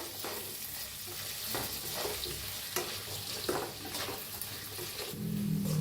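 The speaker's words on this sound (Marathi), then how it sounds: "बघा आता मस्त हलवून घेतले।" Spiced potatoes with turmeric, red chili, coriander and cumin powders and salt fry in a pan while being stirred, with a steady sizzle under repeated scraping strokes of the spoon at a loose rhythm, close and moderately loud, with no talking.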